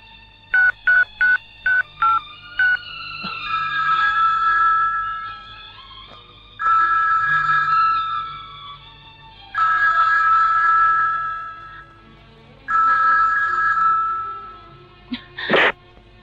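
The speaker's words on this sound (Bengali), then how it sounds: "আলো ফোন কেটে দিচ্ছে" A phone sounds a quick series of dialing beeps, then rings in several long, loud bursts separated by pauses before the call is abruptly cut off with a sharp click.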